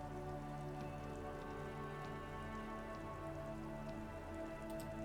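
Steady rain pours in the game Disco Elysium, a dense, unbroken hiss of drops striking surfaces that stays even and fairly loud throughout.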